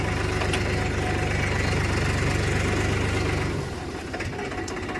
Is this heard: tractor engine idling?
yes